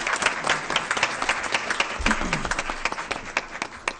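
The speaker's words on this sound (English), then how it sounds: "let's give them both a round of applause" A school board meeting crowd applauds two honored students, brisk dense clapping with sharp individual claps standing out, a moderately close room sound with a faint voice briefly underneath.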